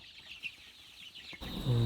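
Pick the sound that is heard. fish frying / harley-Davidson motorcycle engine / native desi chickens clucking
native desi chickens clucking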